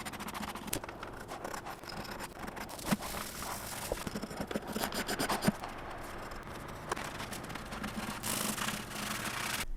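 A hand scraper drags over a wooden mid-century coffee table, lifting teal paint in irregular rasping strokes with scratchy bursts and short pauses, close and fairly quiet.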